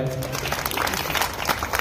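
A crowd claps for a woman contestant at a Home Minister Khel Paithanicha game event, a dense, loud burst of applause with a voice and some music tones mixed in beneath it.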